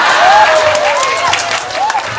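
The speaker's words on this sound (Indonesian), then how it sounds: "Tepuk tangan lho." Crowd applause at an outdoor Islamic religious gathering in Blambangan, Krebet, loud continuous clapping with a sustained whistle or cheer gliding over it, a few voices mixed in.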